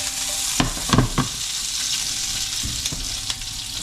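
Squid and sauce sizzling in a pan, a steady hiss and crackle of frying with a few soft scraping stirs and clinks of utensils, close and with no talk.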